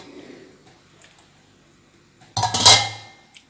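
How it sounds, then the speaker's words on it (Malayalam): A covered pot of cooked jackfruit is opened and stirred, with a brief burst of metal-on-metal scraping and clatter after a quiet stretch of faint background sounds, close and fairly loud. "ഇന്ന് തുറന്നൊന്ന് ഇളക്കി കൊടുക്കാം അല്ലേ."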